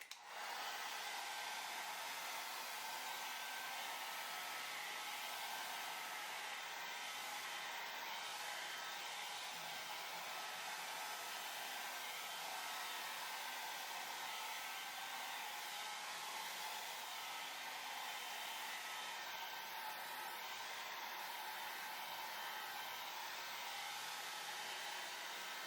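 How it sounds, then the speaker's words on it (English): A hair dryer blows steadily across wet acrylic pour paint on a canvas, a continuous close, even whoosh of air that runs without break for the whole stretch and stays alone, with no talking. "I'm starting by blowing out the paint"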